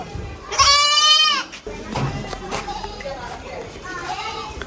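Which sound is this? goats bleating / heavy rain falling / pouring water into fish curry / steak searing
goats bleating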